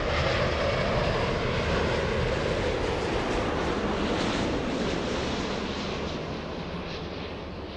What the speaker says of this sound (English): We have the A350 flying in from Istanbul.